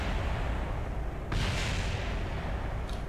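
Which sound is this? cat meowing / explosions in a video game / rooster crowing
explosions in a video game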